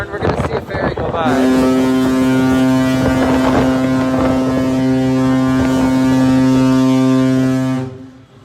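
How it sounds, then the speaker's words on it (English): A deep, loud ferry horn blasts in one long sustained tone for several seconds, preceded by brief wind buffeting and muffled voices. "Hear the ferry horn."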